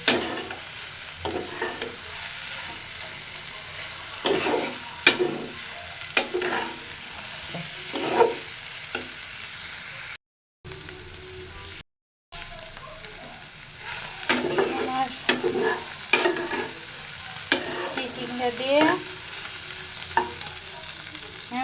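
Fish roe and snake gourd fry together in a pan with a steady close sizzle, broken by repeated scraping stir strokes and two short silent gaps.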